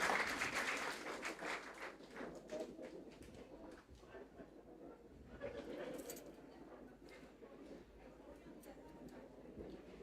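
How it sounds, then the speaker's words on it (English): Audience applause at a university convocation ceremony, a broad wash of clapping that is loudest at the start and then continues more softly throughout, with birds cooing and calling nearby. "A big round of applause, please"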